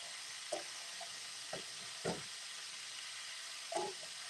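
Vegetables sweat in a non-stick pan over a steady low sizzle, with a few soft scrapes and taps from a wooden spoon stirring them at irregular moments.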